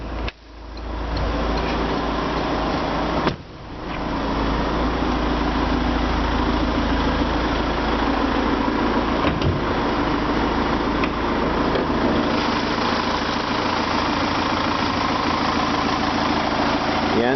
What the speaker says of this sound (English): The engine in the RCZ is a 2-litre diesel.